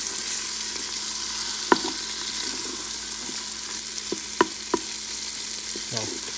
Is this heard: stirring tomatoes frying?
yes